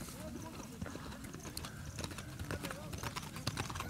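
Racehorse hooves clip-clop in a steady, busy rhythm, close and continuous, with the stomping of two paired horses at a horse-racing event under a layer of crowd noise and voices.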